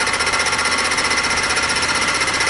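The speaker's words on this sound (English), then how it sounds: "We're making a climb cut here, so we shouldn't be leaving a burr on the edge of the aluminum" A fly cutter climb-cutting aluminum on a mini mill makes a steady, loud, continuous buzzing chatter with an even rhythm and no voices.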